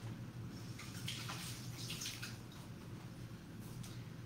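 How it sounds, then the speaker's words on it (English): Hands rinsed under a running kitchen tap while cooking, a soft steady stream of water splashing faintly into a sink with no talking. "Just rinse my hands"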